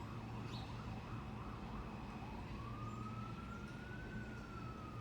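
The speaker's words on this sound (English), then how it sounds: "You hear the sirens?" A distant ambulance siren wails with a rising and falling pitch, faint over a steady low background rumble of traffic.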